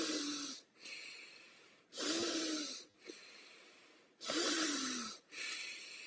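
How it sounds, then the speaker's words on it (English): Breathwork practice: four quick connected breaths drawn in close to the mic, each a sharp sniff-like inhale with a breathy exhale, followed by a longer, drawn-out breath and a slow exhale, repeated in a steady pattern. "4 connected quick breaths and then a long one and an exhale"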